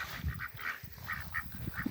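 Farmyard ducks kept alongside chickens and cats quack in a quick series of nasal calls, about six short bursts close by over a soft rustling background.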